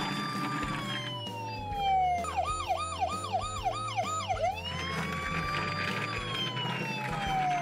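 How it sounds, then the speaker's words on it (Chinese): Toy police car from an Anpanman DIY vehicle set plays a warbling electronic siren for a couple of seconds over background music, clear and close. "面包超人的工作车辆是一辆警车呢"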